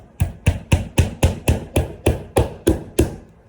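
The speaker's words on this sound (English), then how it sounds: "Use your little finish hammer, and I put my hand in the middle." A small finish hammer drives a nail into a wooden beehive box frame with about eleven evenly spaced, sharp taps, loud and close, and no talking.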